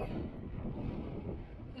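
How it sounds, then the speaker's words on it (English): Wind blows across a hilltop near Solomon's Temple in Buxton, a steady low rumbling buffet on the microphone with no other clear sounds. "A bit windy."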